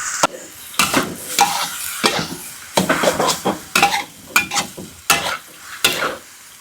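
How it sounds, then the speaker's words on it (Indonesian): Rice vermicelli with bean sprouts is stir-fried in a pan, with repeated scraping and clanking of a utensil against the pan in a steady, uneven rhythm over a constant sizzle, all close and with no talking. "Pertama kali bikin bihun goreng pakai toge."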